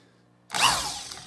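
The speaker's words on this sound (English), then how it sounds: "to turn it we have a drill right there that" A power drill spins up to turn a Chinese 5400-watt wind generator, starting abruptly after near silence with a loud whirring, rising whine that then holds steady.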